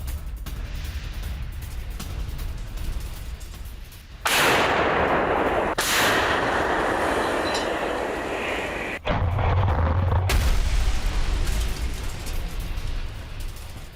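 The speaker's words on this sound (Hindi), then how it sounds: "रूसी आर्टिलरी का विध्वंसक एक्शन" Russian artillery fire in Donetsk comes as sudden loud broadband blasts and bursts of heavy, sustained roaring noise, with sharp onsets at about four and nine seconds over a rumbling background.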